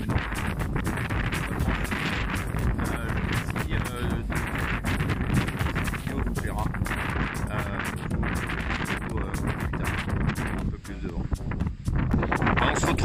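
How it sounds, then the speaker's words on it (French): Storm Carmen's wind battering the microphone outdoors, a loud, continuous roaring buffet with gusty surges and brief lulls, broadband and close throughout. "le vent a l'air d'avoir baissé légèrement"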